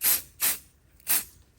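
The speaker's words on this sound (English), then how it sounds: "I just want like a light spray here." An aerosol spray can lets out three short, light hissing bursts, spaced apart with quiet gaps between them, close and fairly faint.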